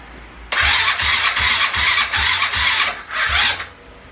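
A quad ATV engine cranks over and over on a weak battery, about seven loud rhythmic starter pulses in quick succession, close up and with no talking.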